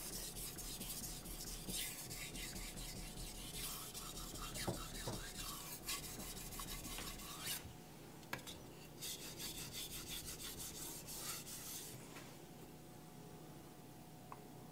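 A knife blade rubs back and forth on a Naniwa Aotoshi whetstone in quiet, steady scraping strokes, soft and close, with short pauses between passes.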